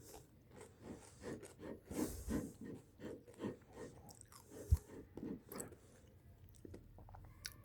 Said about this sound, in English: it's even crunchy as I bite into it